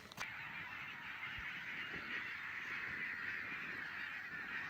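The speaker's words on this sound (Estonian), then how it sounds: "Nii palju lindude kisa." Large flock of birds on Saaremaa, many shrill shrieking and honking calls blending into a continuous loud chorus near a castle ruin, with no one speaking.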